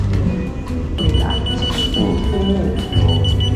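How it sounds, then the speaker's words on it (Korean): A restaurant vibrating pager buzzer at a retro-themed café goes off, a steady electronic ringing tone sounding over busy room noise and rattling. "삐삐처럼 이렇게 울려버리네"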